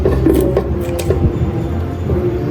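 Kitchen scissors snip through raw squid, giving a few close, crisp cuts amid wet handling noise and a low background hum over a couple of seconds.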